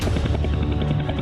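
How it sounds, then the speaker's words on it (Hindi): An Mi-17V5 military helicopter drones with a dense, low rotor and engine roar, loud and continuous throughout the short stretch. "MI-17V5 चॉपर पर पृथ्वी सिंह की पूरी कमांड थी।"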